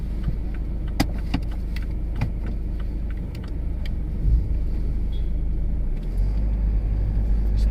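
A BMW 320D diesel car pulls away and cruises in comfort mode, heard from inside as a steady low engine and road rumble with a few light clicks and rattles, and no talking.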